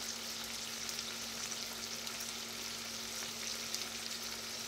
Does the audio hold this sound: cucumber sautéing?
yes